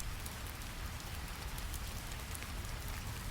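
Rain falls continuously and softly, a faint, even patter of drops on surfaces with a low rumble underneath, steady throughout and free of any voices.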